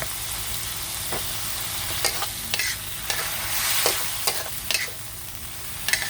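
Pork stir-fried with ginger sizzles steadily in a hot pan, with scraping stirs of the spatula coming every second or so, close up and with no talk.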